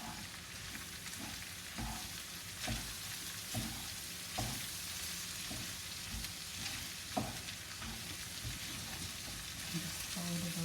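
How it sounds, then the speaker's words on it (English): Flour cooking in a pan with meat for shepherd's pie, a steady broadband sizzle with periodic soft scraping thumps as the mixture is stirred and folded, fairly close, no talking. "Make sure you cook it out, the flour out."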